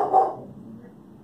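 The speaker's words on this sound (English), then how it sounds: "She's just barking." One dog gives a single loud, close bark aimed at the mailman, then a faint fading tail of sound.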